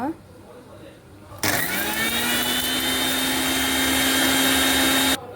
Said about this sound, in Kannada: ಇದರ ಮಿಕ್ಸಿಗೆ ಹಾಕಿ ಈಗ ಗ್ರೈಂಡ್ ಮಾಡುವ.